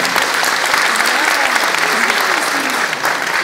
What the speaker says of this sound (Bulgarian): Аплодисменти за нея.